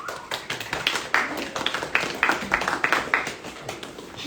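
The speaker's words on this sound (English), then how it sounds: "I want you to take a moment and give yourself a round of applause." A small audience claps at a speaker event, with scattered, uneven hand claps in quick irregular bursts, fairly close and moderately loud, and no talking over them.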